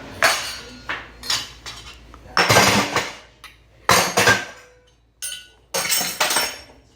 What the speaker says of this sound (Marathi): मसाला डब्बा धुवायला टाकते आता.